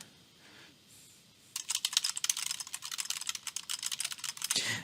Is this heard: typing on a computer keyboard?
yes